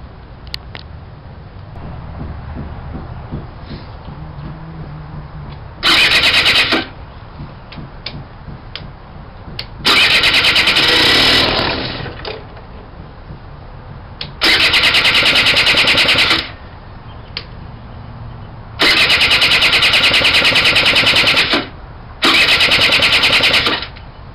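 A Suzuki 80 motorcycle engine cranks over and fires, idling rough and uneven, with several loud bursts of revving that rise and drop back between quieter stretches of lumpy running.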